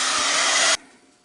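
A heat tool dries Nuvo paste on a handmade craft project with a flower embellishment. It makes a loud, steady, close blowing roar for under a second, then cuts off abruptly into quiet.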